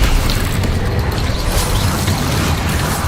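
A Bombarda explosion spell detonates in Hogwarts Legacy, a dense, loud rumbling roar that fills the whole stretch without letting up, heavy in the low end.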